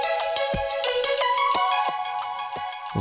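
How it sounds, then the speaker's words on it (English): A bright plucked synth lead, built from a pad sound, plays a quick repeating melodic pattern with sharp note attacks and soft low drum-like hits beneath. The part is short and up front, with no talking. "this lead that originally started life as a plucked pad sound down here"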